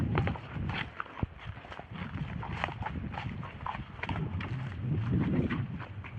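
Horses brought from North India for sale in Tamil Nadu, with their hooves clip-clopping in an uneven, continuous patter over a noisy outdoor background, moderately close.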